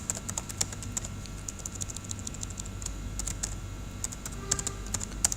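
Rapid clicking of a computer keyboard while entering text in a Word document, keys tapped in quick irregular bursts over a steady low hum of room noise, close and moderately loud, no speech.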